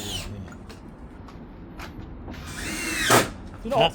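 Short bursts of a power drill whirring in brief spurts while drilling a fiberglass roofing part, louder toward the end, with some background noise between.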